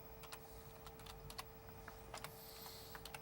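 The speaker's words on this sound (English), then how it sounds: "is typing it in" Keys on a computer keyboard are tapped in quick irregular clusters, faint against a steady low hum.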